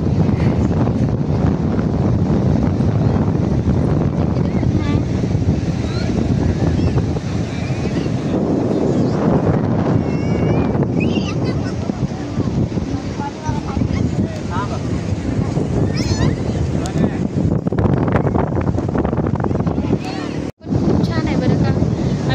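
Sea waves and wind at Divyagar beach on the Konkan coast produce a continuous broad rushing wash with gusty wind buffeting the microphone, while voices murmur faintly underneath; a brief dropout occurs near the end.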